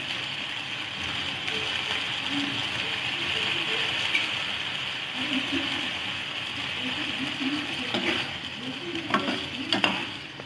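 Dum arbi masala with crushed kasuri methi being stirred in a pan, a steady close sizzle with soft wet scraping and a few sharper clinks of the spoon near the end, without any talking.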